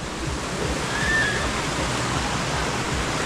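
Clear water seeping and trickling down from a mountain inside limestone caves near Vang Vieng, Laos, a steady broadband rush of flowing water, close and continuous with no talk.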